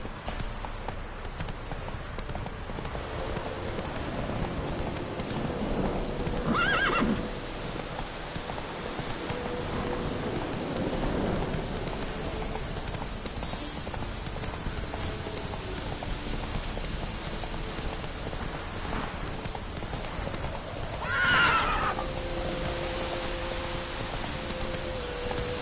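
Hooves of Roach the horse clop steadily as he gallops through rain in The Witcher 3, a soft continuous patter of rain underneath the rhythmic thudding, moderately quiet with a couple of brief louder swells.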